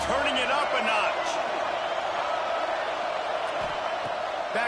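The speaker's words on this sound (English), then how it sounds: "this crowd is turning it up a notch" A College Football 26 stadium crowd keeps up a steady, dense roar that holds full and loud throughout, with a commentator talking over it.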